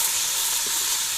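Chopped onions, about three, dropped into hot ghee in a village kitchen, giving a loud, steady, bright sizzling hiss of frying that stays constant without talk.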